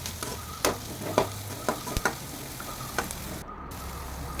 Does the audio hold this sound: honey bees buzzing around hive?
no